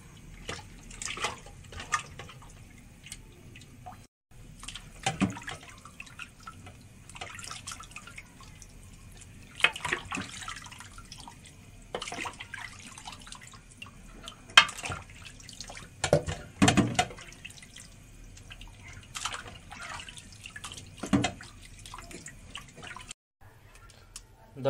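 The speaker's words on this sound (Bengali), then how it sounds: "এবার আমরা একবার গরম পানি দিয়ে ধুয়ে নেব" Beef trotters for nihari are rinsed with lukewarm water, making intermittent splashes, drips and sloshing bursts at moderate level, separated by short quieter gaps.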